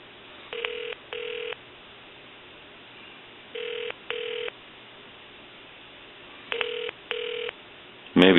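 A phone call to a Walmart store's electronics department rings over the line. Repeated paired tone bursts come through with quiet gaps between them, and a louder sound cuts in at the very end.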